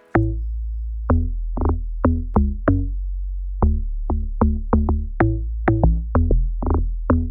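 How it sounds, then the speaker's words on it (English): An Afrobeat log drum line produced in FL Studio, backed by a deep supporting bass, plays a syncopated pattern of loud, punchy pitched hits over a sustained low bass tone, clean and upfront with no voices. "logdrum with that bass that's supporting the logdrum"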